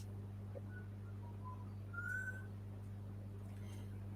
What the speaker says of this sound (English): if you heard any whistling, that is the magpies